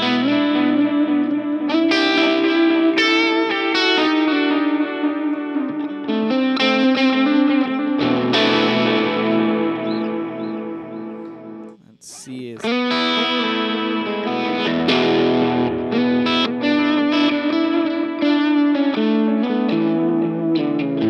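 Electric guitar chords and notes through an Empress Superdelay pedal on a vintage tape delay setting ring out with repeating echoes and wobbly modulation trailing behind, a brief break midway, no talking.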